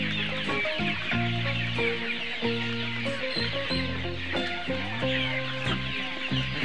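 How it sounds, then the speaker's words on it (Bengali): Sonali chickens cluck continuously in a busy, fairly quiet farm setting, with several birds overlapping in short repeated calls and no talking. "সোনালী মুরগির নাম"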